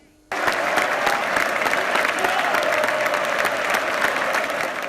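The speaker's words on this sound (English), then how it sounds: "A round of applause in the 63rd minute to mark the memory of a lifelong fan who died, aged 63" A football stadium crowd applauds in the 63rd minute in tribute to a late lifelong fan, a huge sustained roar of clapping from thousands that bursts in suddenly and holds steady, with a faint voice underneath.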